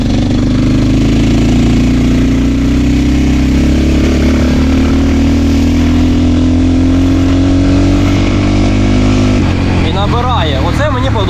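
Ported 172FMM motorcycle engine running at low revs below idle speed while riding on a road, a steady close droning hum that shifts near the end, with someone talking over it.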